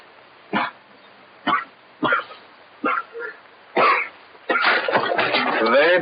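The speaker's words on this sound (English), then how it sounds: "Very bad cough, my friend." A man in an old desert film coughs harshly in a series of short, separate hacks, about five spaced bursts, followed by muffled talk; the sound is somewhat muffled and lo-fi.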